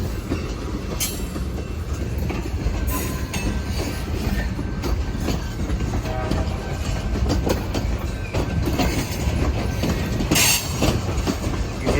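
A long CSX freight train rumbles past nearby, wheels clattering and clanking over a crossing with occasional metallic squeals, loud and continuous.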